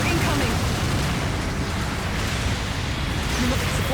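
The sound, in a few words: long-range supporting fire explosions in Gundam Battle Operation 2 video game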